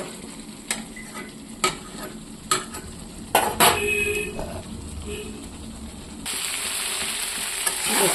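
Potatoes and chicken frying with spices in a pan: a steady sizzle with sharp spatula clinks and scrapes as the pan is stirred, the hiss swelling louder near the end.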